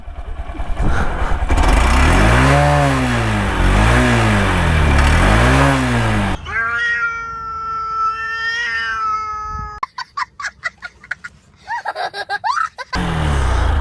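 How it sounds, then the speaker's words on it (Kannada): A 2025 Honda SP125 motorcycle's exhaust rises and falls through several quick revs up close, followed by quieter, choppier sounds near the end. "exhaust sound ಕೇಳಿಸ್ಕೊಬಿಡಿ"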